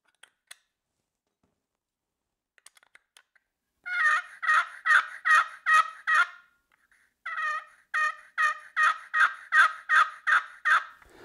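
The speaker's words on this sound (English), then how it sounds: "this particular paddle had a completely different pitch, and it had a different volume and had that nice subtle raspy sound to it" Turkey box call from an Illusion Quick Change set, fitted with a subtly raspy paddle, giving two runs of rapid yelping clucks, about six notes then about ten, close and moderately loud against silence.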